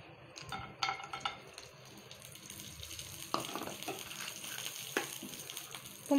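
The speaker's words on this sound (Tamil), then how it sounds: "இப்போ முந்திரி வந்து வறுத்து எடுத்துக்கணும்" Cashews roast in ghee in a hot pan, with a faint steady sizzle and occasional sharp clinks and scrapes of a spoon against the metal, close and quiet.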